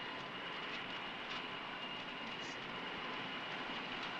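A jet airplane engine roars steadily at an airport, a loud, continuous broadband drone that holds without a break.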